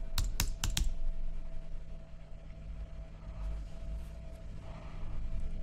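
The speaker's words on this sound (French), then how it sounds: "vous allez taper un petit mot" Several quick keyboard keystrokes at the start of a short burst of typing on a computer keyboard, then steady low background hum with no further clear key presses.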